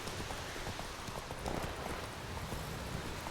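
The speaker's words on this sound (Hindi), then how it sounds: "कार चलाते चलाते बाइक चलाते चलाते घोड़ा चलाना पड़ रहा है" Horse hooves clip-clop in a steady trotting rhythm while riding in The Witcher 3: Wild Hunt, moderately loud game audio with no voices over it.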